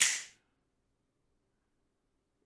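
A single sharp snap, crisp and bright, cutting off quickly into silence.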